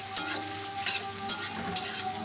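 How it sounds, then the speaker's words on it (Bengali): Green chillies and spices frying in oil for mutton kosha, a steady hiss with four crisp scraping stirs at even intervals, close and clear with no talk. "এখন আমি সবগুলো একত্রে একটু লাল লাল করে ভেজে নেব।"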